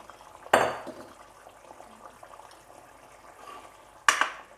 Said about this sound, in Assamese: চাওকচোন আঞ্জাখন ফুটফুটকৈ ফুটিব ধৰিছে আৰু এতিয়া মই বেচন লগাই দি ফ্ৰাই কৰি লোৱা কণী 4 ফাল দি দিলো ইয়াতে